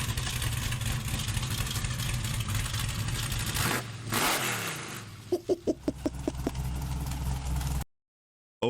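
A Ford Mustang engine rumbles near and loud, then swells in a rising rev, followed by a quick series of sharp blips before it cuts off abruptly.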